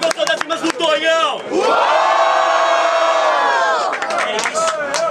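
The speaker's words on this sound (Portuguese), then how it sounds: "muito barulho quem gostou das rimas do Tonhão!" Cheers, whoops and shouts erupt from a rap battle audience, a loud, sustained roar that swells after a brief choppy start and holds strongly to the end.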